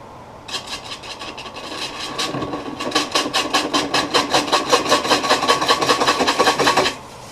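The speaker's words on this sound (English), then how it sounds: "I went back to the same carbide detail gouge I used to clean up the bottom earlier." Carbide detail gouge cutting a wooden bowl on a lathe, a steady close rasping scrape that grows louder and pulses rhythmically with each rotation for several seconds before stopping abruptly.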